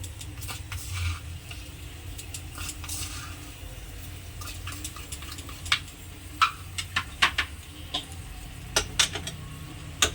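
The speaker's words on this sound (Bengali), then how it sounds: "এগুলোকে আবার ভালোভাবে মিশিয়ে নেব।" Spoon stirring a dry mixture of grated coconut, jaggery and mung dal powder in a pan for laddu, with soft scraping through the clip and a run of sharper clinks and scrapes toward the end.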